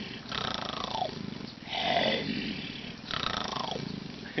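A person imitates a tiger's roar in three long, rough bursts with short pauses between them, loud and close.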